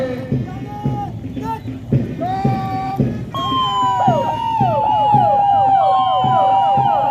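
Police motorcycle squad sirens wail, rising and falling repeatedly over a rumbling crowd and engines in Varanasi, growing louder and steady as a procession passes close by.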